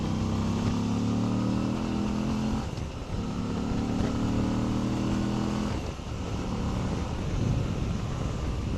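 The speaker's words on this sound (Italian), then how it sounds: "Il motore non ha allungo chiaramente." A Moto Guzzi V85TT motorcycle engine drones loudly under load on a windy day, a steady harmonic rumble that pulls, drops off briefly at shift points and picks back up again, with wind noise underneath.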